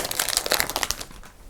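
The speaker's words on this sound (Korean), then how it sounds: "일단 비닐을 뜯어버리고" Plastic film crinkling and tearing off a new Galaxy Z Flip phone during unboxing, a close run of sharp crackles that tapers off over a second and a half.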